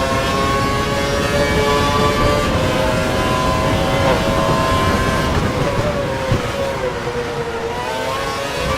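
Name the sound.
vocal imitation of Formula 1 car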